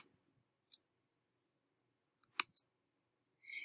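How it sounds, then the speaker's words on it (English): Several sharp, isolated clicks from a computer mouse, spaced irregularly in near silence, with one brief louder pair of clicks and a short hiss at the end. "I'm going to right click"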